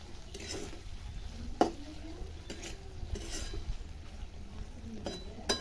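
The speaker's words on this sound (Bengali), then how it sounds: "জিরে পাউডার দেওয়ার পরে একটু মিক্স করে দেবো ভালো করে" Cumin powder stirred into bitter gourd frying in a pan, with soft scraping strokes and occasional spoon clinks against metal over a faint, steady sizzle.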